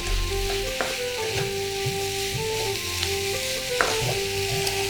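Egg 65 being stirred with tomato sauce in a pan on high flame, a loud steady sizzle with repeated scraping and tapping of the spatula against the pan, accompanied by faint background music.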